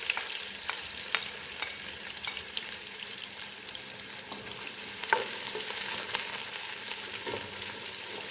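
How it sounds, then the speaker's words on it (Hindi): Finely chopped onions frying in oil with cloves and whole spices for a keema karela dish: a soft, continuous sizzle dotted with light crackles and pops, fairly quiet and close, with no voices. "प्याज को लाइट गोल्डन होने तक फ्राई करना है, बिल्कुल ब्राउन नहीं करना है।"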